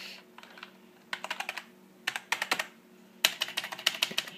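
Fingers type on a nasty old workshop computer keyboard in irregular bursts of rapid clicking keystrokes, with short pauses between runs. The clatter is close and fairly bright, with no voices.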